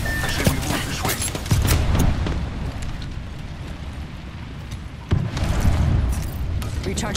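Gunfire in the video game Apex Legends comes as loud, rapid bursts of shots crackling close by, with a heavier booming impact near the end and continuous battle noise between volleys.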